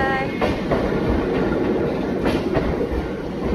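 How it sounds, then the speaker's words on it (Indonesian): Rumbling train noise with rhythmic clatter of wheels on rails, a steady broadband roar passing nearby at moderate loudness, at Kurobe Gorge, Japan. "Ada kereta lewat di belakang."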